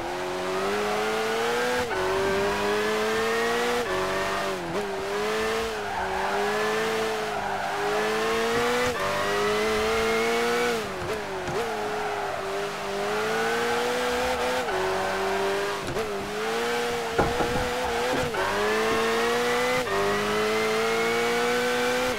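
A race car in Gran Turismo 5 on a circuit such as London or the Nürburgring GP-D, its engine droning loud and steady, rising through the revs, dipping at gear changes and braking, with occasional tire squeal.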